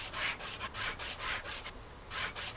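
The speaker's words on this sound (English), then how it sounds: "what we want to do is literally just use the sandpaper" Sandpaper rubs rust off a car's bodywork in the game Car Dealer Simulator, a quick series of rhythmic scraping strokes with one brief pause, fairly faint and alone.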